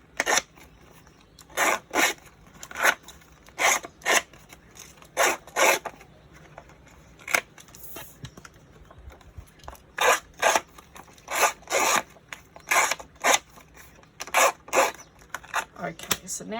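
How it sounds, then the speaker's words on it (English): A small paper distresser tool rasps around the edges of scrapbook paper in repeated short scraping strokes, close and fairly loud, with brief pauses between bursts. "So I've just got my little distresser there and just going around the edges."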